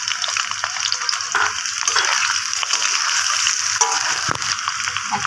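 Chopped ginger drops into fish heads frying in a pan, giving a steady, close crackling sizzle with a few louder spits and stirring sounds throughout.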